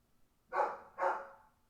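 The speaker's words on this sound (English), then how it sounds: "she's barking again" Two clear, separate dog barks at moderate distance, evenly spaced about half a second apart, standing alone in an otherwise quiet room.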